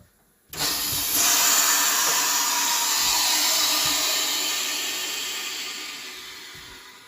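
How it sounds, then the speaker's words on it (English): A sudden loud rush of hissing air as a Harvest Right freeze dryer releases its vacuum, holding steady and slowly fading over several seconds. "So you heard the vacuum go out"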